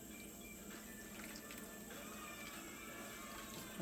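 Bread slices dipped into a bowl of water while making crispy bread rolls, giving faint, steady watery sloshing and trickling close by with no talking.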